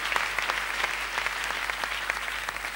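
A seated church congregation applauds together, a dense patter of many hands clapping steadily at close range, with no speech over it.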